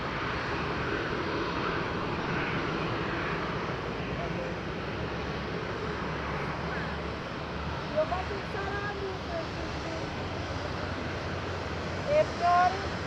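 Fixed-wing aircraft taking off from runway 05 at Madeira Island Airport, a steady, fairly distant engine roar with wind-like noise that holds throughout, plus a few brief bumps near the end.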